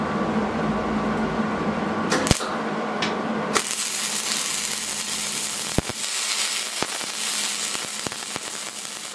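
Welding fills a drilled hole in a trailer axle spindle, making a steady, close crackling hiss broken by sharp pops and ticks that shifts in intensity partway through.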